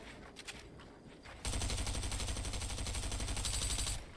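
Rapid automatic fire from an AK assault rifle in Fortnite, opening after a quieter lead-in and holding as a loud, dense, steady burst for several seconds before cutting off.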